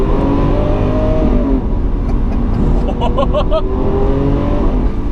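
Lamborghini Aventador engine rumbling loud and steady from inside the car on a test drive, a deep continuous drone with a brief dip and a rise in pitch as it accelerates.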